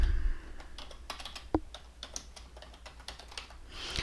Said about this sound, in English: and we could just type in.